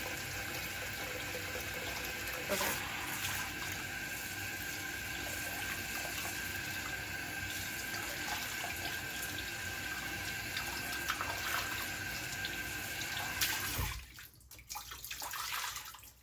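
Tap water runs steadily from a faucet as it warms up, a continuous close hiss and splash that holds for most of the span, then cuts off near the end, with a brief spoken word.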